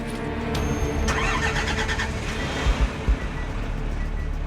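A diesel truck engine cranks and catches after a mechanic tries to burn off the last diesel in the tank, turning over roughly and settling into a steady, loud rumble close by, with a few heavier knocks near the end.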